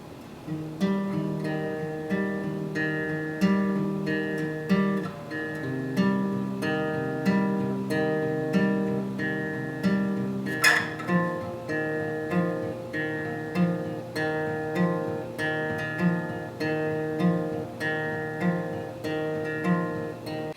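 Strummed acoustic guitar chords in a steady rhythm, each chord repeated several times before changing, played alone and close.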